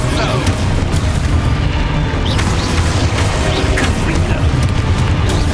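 An Exposo spell blows up in Hogwarts Legacy on PS5: heavy, booming explosions with rumbling, artillery-like low end and scattered sharp bursts continue loudly for several seconds while a voice speaks underneath.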